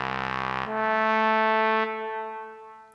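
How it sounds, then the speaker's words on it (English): A sampled trombone in a Carpenter library moves from a sustained note into a legato phrase, the tones bright and brassy and changing pitch smoothly, played alone before fading. "if we play from a sustain into a legato, it sounds something like this."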